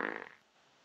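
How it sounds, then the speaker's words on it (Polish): A short, buzzy fart, loud at first and then fading quickly into quiet. "Ale ty tak pierdzisz."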